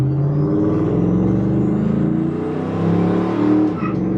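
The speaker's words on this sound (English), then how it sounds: "this truck was always known for a little second gear shift" Chevrolet Square Body truck engine revving loudly and shifting into second gear, a steady close rumble with rising harmonics and a brief dip near the end as the shift catches.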